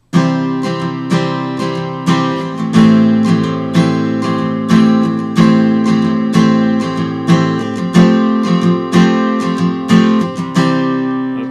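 An acoustic guitar plays the chorus of a song with steady, rhythmic strums of ringing chords, close and clear, with no voice, the last chord fading out.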